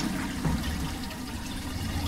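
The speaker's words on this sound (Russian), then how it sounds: "надо сдернуть толчок. О, водичка пошла, нормально." A toilet flushing with water running in the horror video game Lust from Beyond, a steady low rushing and trickling stream heard at moderate level throughout, fairly close and without pause.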